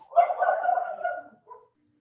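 A dog barks during a council meeting, a single close bark-like yelp drawn out into a brief whine, followed by a shorter trailing whimper.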